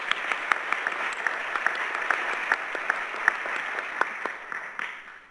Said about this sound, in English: How about a round of applause for our sponsors today?